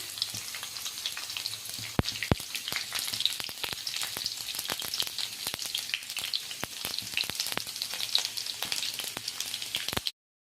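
Garlic fries in hot oil in a kadai with cumin and mustard seeds, a close, continuous sizzle broken by sharp crackles and pops and the scrape of stirring, with no voices.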